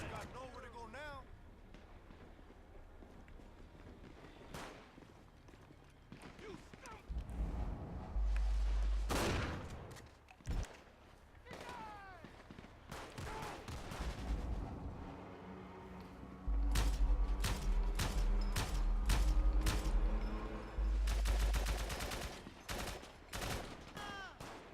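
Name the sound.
gunfire in the video game GTA V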